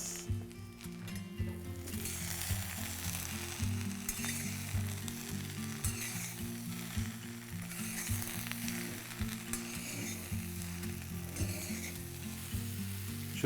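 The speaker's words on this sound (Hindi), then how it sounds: "जैसे जैसे आप भिंडी तलते रहेंगे वो लेस चली जाएगी, गायब हो जाएगी।" Sliced okra (bhindi) fries in a pan, a steady close sizzle and crackle with occasional stirring scrapes, continuous and fairly quiet throughout.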